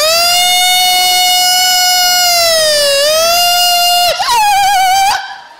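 A VIP vehicle convoy siren wails loud and close, holding a steady tone before dipping and rising again, then breaking into a faster warbling sweep that cuts off abruptly, with no voices.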